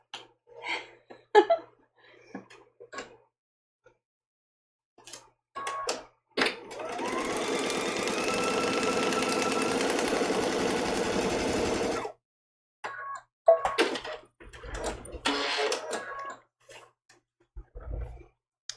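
A sewing machine stitches a fourth fabric piece onto a paper foundation for a small 7-inch quilt block, running steadily for several seconds. Light handling clicks and rustles come before and after it.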